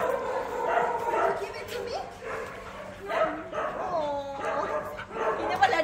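A disabled Labrador that won't let go of its ball yips, whimpers and gives short close barks in uneven bursts while people talk nearby.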